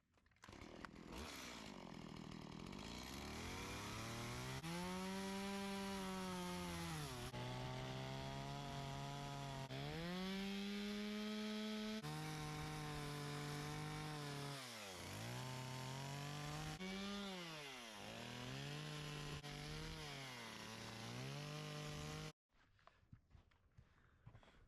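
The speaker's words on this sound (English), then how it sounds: "we're gonna take the chainsaw, cut right here and right here to leave the trunk" A chainsaw cuts into a tree trunk while a tree and owl carving takes shape, its engine revving loud and close in sustained bursts that dip and climb in pitch, then cutting off abruptly near the end.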